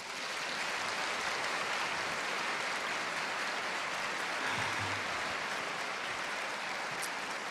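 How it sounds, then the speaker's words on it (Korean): A church congregation at a Friday night revival service applauds in welcome, giving dense, sustained clapping that fills the room at an even level throughout, with no speech over it. "우리 다 같이 감사와 환영의 박수로 맞이하겠습니다"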